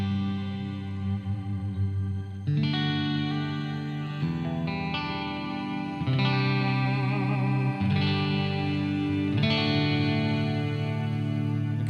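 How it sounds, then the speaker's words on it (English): A guitar through a Kemper amp profile with an ethereal ambient reverb rings out in sustained, swelling chords, each strum blooming into a long washy tail that overlaps the next, loud and alone without talk. "ethereal ambient reverb thing going on here."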